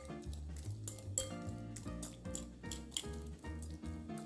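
Grinder-style salad tossed with utensils in a bowl, giving light clinks and scrapes that sit faintly under steady background music.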